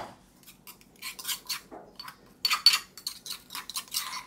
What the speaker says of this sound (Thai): ตามด้วยกะปินะครับโขกให้ทุกอย่างเข้ากันเลยนะครับ